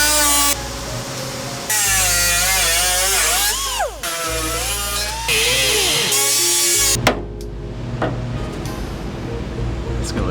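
Power tool trimming metal at the rear of a BMW F30 drift car, a loud sustained whine in long bursts with pitch sweeps as the tool loads into the metal, then stopping, followed by clanks and workshop noise.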